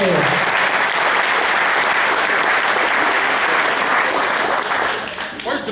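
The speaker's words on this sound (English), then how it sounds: "Let's give him another round of applause." Sustained applause from an audience at a county touchdown club meeting, dense and steady for several seconds before tapering off near the end, with a voice faintly audible at the close.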